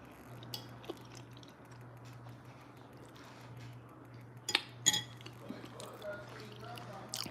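Cutlery clinks against a bowl as someone eats homemade soup, with sparse light taps and a couple of sharper, louder clinks midway over a steady low hum.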